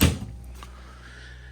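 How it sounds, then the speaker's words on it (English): An oversized pots-and-pans drawer in the kitchen of a 2022 Forest River Cherokee Arctic Wolf 321BH fifth-wheel RV thuds open in one close, solid knock, then leaves a quiet room tone. "huge pots and pans drawer."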